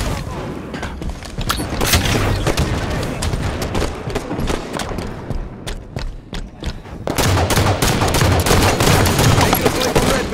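Dense gunfire and explosions fill a multiplayer Halo 2 Stronghold battle in Empire. Shots rattle in rapid bursts with booming impacts throughout, loud and close, briefly easing in the middle before swelling again.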